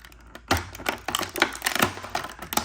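Knife cutting a plastic nub off a Turtles of Grayskull Krang action figure, heard as a few close, sharp clicks and scraping snips at irregular intervals, alone without talk.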